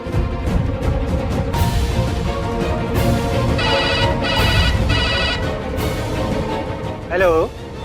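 A telephone rings in a Hindi TV drama scene, several repeated electronic ring bursts over a steady bed of background music, loud and close.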